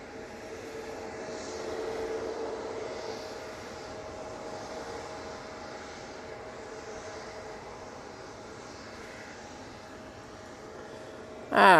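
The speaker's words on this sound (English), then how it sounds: "And there is the beautiful KLM Embraer" A KLM Embraer jet at Manchester Airport gives off a steady, moderately distant engine roar with faint tonal whine, holding level for most of the stretch before a sharp louder burst at the very end.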